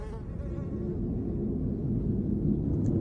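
Flies buzz in a dense, steady drone in a desert setting, close and continuous with no pauses.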